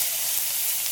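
Chopped onion added to hot oil already tempered with cumin gives a brief, steady, bright sizzle, close and fairly loud, with no voice.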